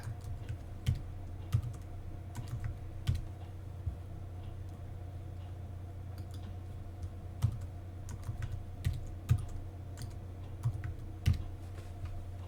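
A password being typed on a computer keyboard: scattered soft keystroke clicks, some sharper than others, faint and close, with a low steady hum behind them and no voices.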